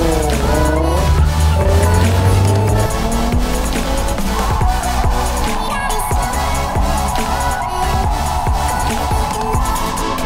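A factory-trim car drifts on a race track, its engine roaring at high revs while tires squeal and skid in long sliding bursts, loud and continuous.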